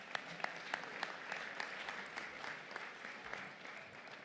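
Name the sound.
audience applause at an award ceremony dinner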